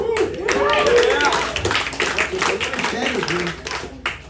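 An audience at a comedy club claps and applauds in a short, bright burst while a comedian keeps talking over it.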